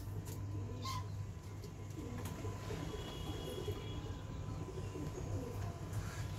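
Low, steady cooing of Madrasi pigeons murmurs continuously under a constant rumbling background, with occasional faint chirps and flutters nearby.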